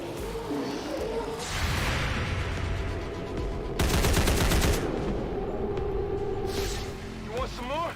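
Gunfire in the XCOM 2 video game, several bursts of rapid shots with a heavy volley in the middle, mixed with game effects and a voice talking.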